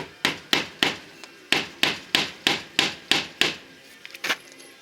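Hammer blows drive nails into vinyl siding, about a dozen sharp, evenly spaced strikes close by in a steady rhythm, followed by a few lighter clatters at the end.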